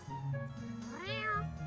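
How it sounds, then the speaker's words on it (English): A cat in the VRChat game lets out a single short meow that rises and falls in pitch, clear and fairly close over a faint background. "He's a smart little cat."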